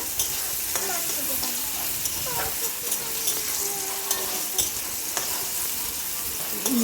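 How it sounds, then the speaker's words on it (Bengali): Yardlong beans fry in hot oil with a loud, steady sizzle and crackle, while a spatula scrapes and stirs through them in repeated strokes, fairly close and without talk. "দেখো বন্ধুরা বরবটিগুলো কি সুন্দর ভাজা করে নিয়েছি"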